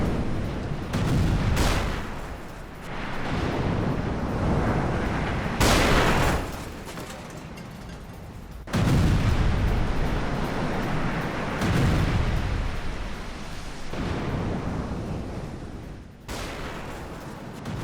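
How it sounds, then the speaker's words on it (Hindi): Missile strikes on a US aircraft carrier and ships in the Israel–Yemen conflict produce a dense, continuous roar of blasts and rumbling detonations, loud and sustained, with sharper explosive onsets surging through the noise. "एक तरफ देखिए यूएस एयरक्राफ्ट कैरियर पर कैसे मिसाइल अटैक किया गया है"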